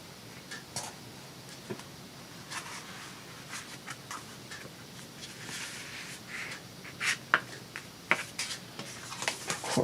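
Paper being creased and folded for a butterfly collage craft project, with quiet scattered rustles and crisp ticks that grow busier and louder toward the end, no talking.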